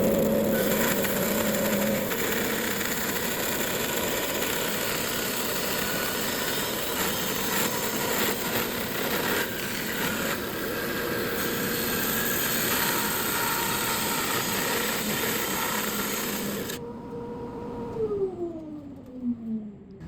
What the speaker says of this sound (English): I'm just going to take my bandsaw, cut this in half